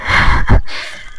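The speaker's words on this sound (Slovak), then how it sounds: "Počujeme dýchanie, rýchlo utekajme." Heavy, raspy breathing in the Slender horror video game, a single loud, close gasping breath lasting about a second.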